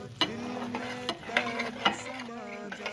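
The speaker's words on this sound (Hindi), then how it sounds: "अब हम इसको अच्छी तरह से भून लेंगे।" Semolina roasting in hot oil for suji halwa, stirred with repeated scraping strokes and light clicks of a spoon against the pan over a faint, steady sizzle.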